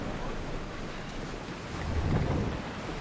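Ocean waves and wind rushing past a sailing ship in Assassin's Creed Odyssey, a steady broadband wash with a swell building toward the end, no talk.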